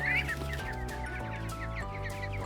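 Small, wet ducklings cheep rapidly in a busy, overlapping chorus of short high chirps, close and steady, over a low background hum.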